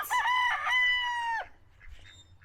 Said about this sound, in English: That is my rooster's name, Duck.